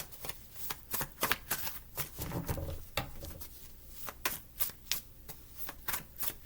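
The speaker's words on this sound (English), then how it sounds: "this is as thick as a deck can be because I can't shuffle anymore" Rapid, crisp riffling of a thick deck of cards being shuffled, in repeated bursts of quick snapping flutters, close and clear.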